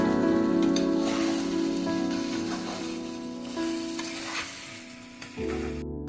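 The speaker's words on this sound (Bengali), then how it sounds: "এইদিকে দেখুন আমার মাংসটা কষা হচ্ছে" Chicken pieces sizzle and fry in oil in a pot while being sautéed for homemade chicken biryani. The crackling is close and continuous, with occasional stirring, and no talk is heard.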